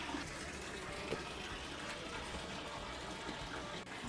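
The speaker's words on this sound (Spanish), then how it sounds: "esta fuente singular, el agua brota constantemente a 74 grados" Hot spring water at 74 degrees gushing steadily from the Fuente del León fountain in the main square of Caldes de Montbui, a constant, even splashing rush with no pauses.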